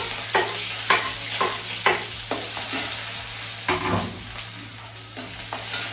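Onion and green chilli frying in hot mustard oil, a steady bright sizzle broken by repeated scraping strokes of a spoon against the pan at an uneven rhythm, close and fairly loud, with no talking.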